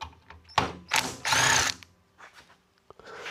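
During the teardown of a Nissan Leaf inverter, a power tool loosens bolts in loud, close bursts of whirring and ratcheting with short gaps between them, then a few faint clicks follow.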